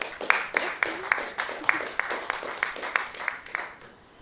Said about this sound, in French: on applaudit encore une fois Marie-Pierre